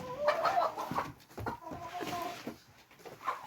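Hens cluck and murmur in short, irregular bursts, fairly close, with a farmyard bustle behind them.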